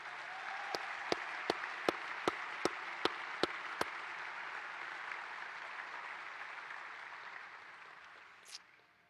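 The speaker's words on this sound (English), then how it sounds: "one last round of applause for you and everything you do" Sustained applause for a college football team at a press gathering for Baylor's new coach: a steady wash of many clapping hands, with a run of evenly spaced sharp claps early on, slowly tapering toward the end.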